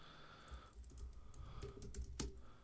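Steady computer keyboard typing during data entry at a desk, a run of quick close keystrokes with irregular rhythm and a few louder taps, heard on its own with no talking.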